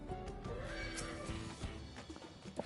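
A horse whinnies while being ridden in the video game Final Fantasy XIV, a clear neigh rising over faint clip-clop hooves and ambient game sound, close and moderately loud.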